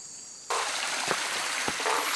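Water from a waterfall and stream in the Amazon rushes steadily at close range, starting abruptly and continuing as a broad hiss with a couple of faint knocks.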